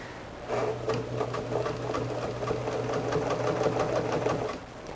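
A sewing machine runs steadily for about four seconds, stitching bias tape onto a quilt, a close, even whirring hum with rapid needle clatter and no talking.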